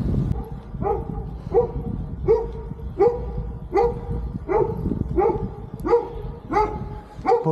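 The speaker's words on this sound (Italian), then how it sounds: "Saluto al cane." A dog barks in a steady series of about a dozen evenly spaced, moderately loud barks along a country road in Tuscany, with no voices.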